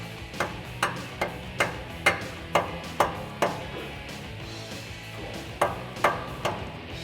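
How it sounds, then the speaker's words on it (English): Mallet taps drive a socket onto a rusty exhaust bolt under a Toyota Tacoma, giving a steady run of about a dozen sharp, evenly paced metallic knocks, close and distinct, with a short pause before the final few. "I'm gonna use the mallet to tap that socket onto the bolt"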